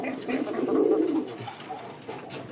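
Large pigeons coo softly at close range in a coop, with low, rounded calls and some light rustling around them.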